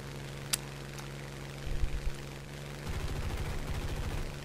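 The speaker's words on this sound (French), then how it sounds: "Il tire sur un ennemi" Gunfire in War Thunder: a sharp single shot early, a couple of heavy low thumps, then a rapid stuttering burst of automatic fire over a steady engine hum.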